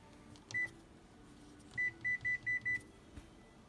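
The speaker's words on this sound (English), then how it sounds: "put this in the microwave right here" Microwave oven keypad beeps while a timer is set for cooking spaghetti: a single high beep, a pause, then five quick evenly spaced beeps, clear over a quiet room hum.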